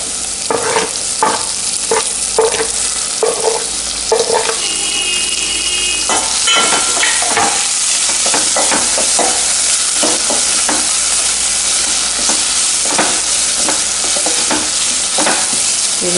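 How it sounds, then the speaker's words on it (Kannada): Mushroom curry with tomato frying in oil for a gravy without garam masala, a loud continuous sizzle with frequent clattering stirs of a spoon against the pan, close up and with no talking. "ಇದು ಒಂದು 5 ನಿಮಿಷ ಇದು ನಾನು ಕರಿ ಬೇಯಿಸಿಕೊಳ್ತೇನೆ ಎಣ್ಣೆಯಲ್ಲಿ"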